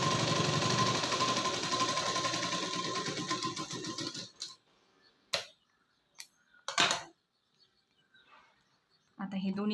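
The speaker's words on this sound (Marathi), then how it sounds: "बरोबर शिलाई मारायला सुरुवात करायची" A sewing machine stitching a prince cut blouse runs steadily for about four seconds, a fast even whirring hum, then stops, followed by a few short bursts and near silence.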